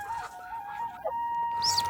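Elba and KUB crossbreed chickens cluck softly nearby in a short burst, with a faint rooster-like call and background farmyard hum.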